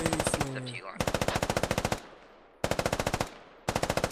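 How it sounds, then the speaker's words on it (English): Machine gun fire in a video game, four loud, close bursts of rapid, evenly spaced shots separated by short gaps, with a brief snatch of voice before the first burst. "You don't want to keep your burst too long, because you just run out of ammo firing at the same thing over and over again."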